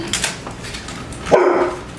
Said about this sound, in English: I'm going to let the dog out because he's barking like a fool.